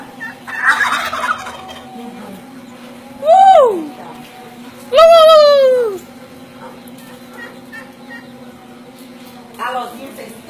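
Turkeys gobble outdoors in light drizzle: a few loud, warbling gobbles ring out near and clear, separated by quiet stretches, and a voice speaks briefly at the start.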